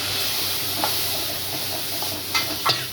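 Ground tomato paste from three tomatoes poured into a hot pan for an egg curry, giving a steady broadband sizzle and hiss with a few soft splashy bursts near the end.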